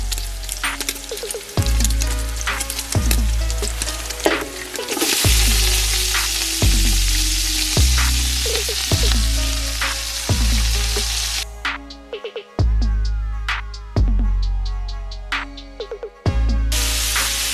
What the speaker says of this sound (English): So my bacon is mostly cooked through. I'm just gonna add the chard to this and let it cook down.